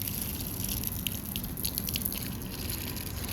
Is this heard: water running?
yes